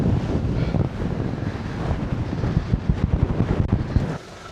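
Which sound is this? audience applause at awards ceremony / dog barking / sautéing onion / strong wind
strong wind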